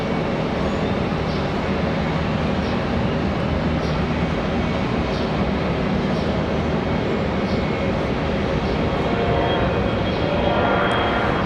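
An airliner takes off from runway 18 center at Charlotte Douglas airport, a steady broad jet roar filling the whole stretch without pause, loud and close, with no talk over it.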